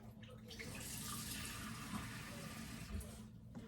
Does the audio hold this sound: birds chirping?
no